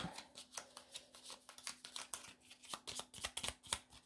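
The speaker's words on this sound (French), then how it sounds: "On remélange son paquet." Soft, rapid riffling and flicking of playing cards being shuffled, quiet and close, in quick irregular bursts with a faint steady hum beneath.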